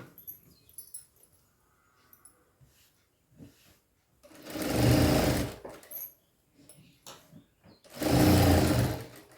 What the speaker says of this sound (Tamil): நான் சேர்த்து அப்படியே கடகடகான்னு தையல் போட்டுருங்க